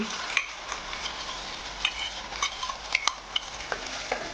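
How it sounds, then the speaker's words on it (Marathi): Tomato and peanut paste is stirred into fried, reddened onions in a pan, giving a soft sizzle under repeated light clicks and scrapes of a spoon against the metal. "कांदा छान लाल झालेला आहे त्याच्यामध्ये आपण आपली पेस्ट टाकून घेणार आहे टमाटे आणि शेंगदाण्याची बनवलेली पेस्ट आहे"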